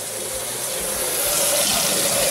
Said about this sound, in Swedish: Så jag ska ta och hämta lite vatten här.